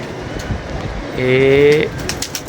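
A single close, loud coo from a bush pigeon rises midway through and holds for under a second, with quiet outdoor background and faint talk around it.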